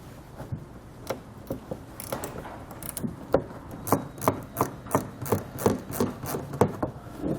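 A 7mm socket backs a bolt out of trim near a seam on a 2016 Buick Envision, with a series of crisp ratcheting clicks that start sparse and settle into a steady, evenly spaced rhythm, close and fairly quiet.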